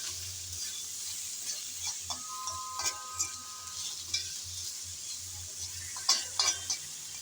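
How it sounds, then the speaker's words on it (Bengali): Potol (pointed gourd) being stirred and mixed in a frying pan, with a steady sizzle beneath scattered scraping and clinking of a utensil against the pan, a few sharper knocks near the end; no talking. "আবারও এসে নেড়ে চেড়ে মিশিয়ে নিচ্ছি, না হলে নিচে লেগে যাওয়ার সম্ভাবনা থাকতে পারে।"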